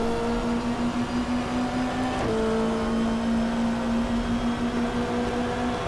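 Touring race cars lapping a chicane in the GTR2 sim, a steady engine drone holding one note, dipping sharply around the middle of the run as the driver lifts and shifts, then settling back at a slightly lower pitch.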